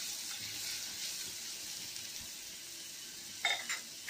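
Steady, soft sizzle of garlic frying in a pan, with a brief clatter of a utensil near the end.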